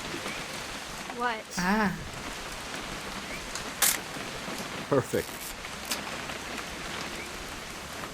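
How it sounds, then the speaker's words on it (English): Steady rain hisses across the scene in the video game What Remains of Edith Finch, a constant wash of drops under a few brief spoken words and some sharper clicks and tones. "It's gonna rain the whole weekend, isn't it?"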